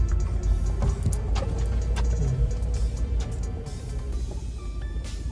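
A Lexus GX470 crawling an off-road trail with A-TRAC traction control working, heard as a low engine drone overlaid with rapid ticking and clicking pulses from the brakes grabbing wheels, fairly loud and close.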